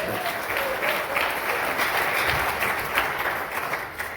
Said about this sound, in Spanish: ¿Cuántos damos aplausos al Señor, hermanos?